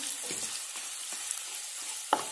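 Bombay duck (bombil) pieces fry in hot oil with a steady close hiss, a few soft stirring scrapes, and one sharp tap near the end.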